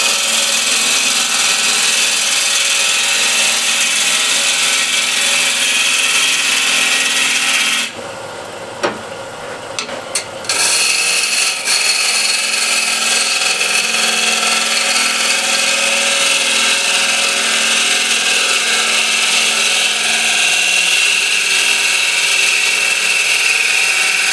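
A wood lathe at 1200 RPM turns a solid block of osage orange while a ball gouge trues it up, giving a loud continuous rasping scrape that drops out briefly for a few seconds before resuming steadily.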